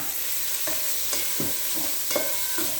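Onions fry with bacon in a pan, giving a soft steady sizzle under a handful of scraping stirs and clinks from a utensil, close and fairly quiet.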